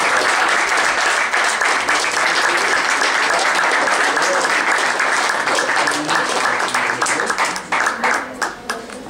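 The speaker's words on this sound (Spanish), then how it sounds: "un gran aplauso para nosotros" Sustained audience applause after a university event at Ibero León, dense continuous clapping from a crowd that tapers off near the end, with a faint voice underneath.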